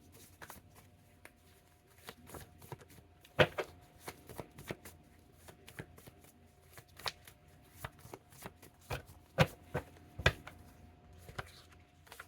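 Paper name slips being shuffled by hand, a quiet run of irregular crisp rustles and flicks with a few sharper snaps, close to the microphone, no talking.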